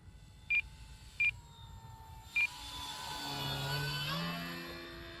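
An OMP Super Decathlon RC airplane makes a slow flyby outdoors, its engine drone rising and shifting in pitch as it passes, preceded by three short electronic beeps.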